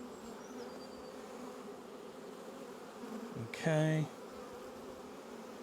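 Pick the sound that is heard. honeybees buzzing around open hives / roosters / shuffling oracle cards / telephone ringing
honeybees buzzing around open hives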